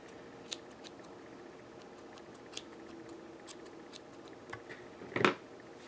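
Scissors snip at a yarn pom-pom in quiet, sparse clicks spread over several seconds, ending in a louder, closer burst of cutting.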